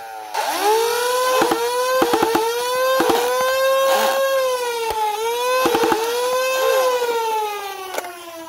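A modded Nerf Hyperfire blaster fires several short bursts of rapid flywheel-driven shots over a steady whirring motor hum, with sharp clustered impacts repeating across the clip, close and loud.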